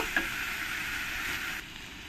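Mutton with fried potatoes sautés in a pan, a continuous close sizzle with a small clink at the start.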